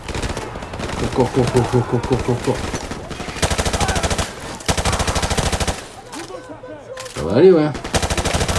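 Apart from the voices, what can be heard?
gunfire in video game Call of Duty 4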